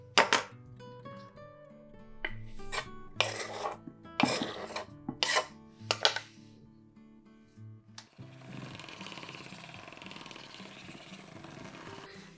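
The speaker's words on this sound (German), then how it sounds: "Die geschälten Rhabarberstangen schneide ich dann in dünne Scheiben" A knife slicing peeled rhubarb stalks into thin slices on a cutting board, a series of close, rasping cuts in irregular bursts, then a softer continuous hiss at the end, no talking.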